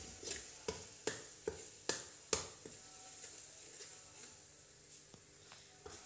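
Salt and chili are stirred into a spinach and potato dish in a pan, a series of sharp spoon taps and scrapes early on over a faint sizzle that then fades to quiet.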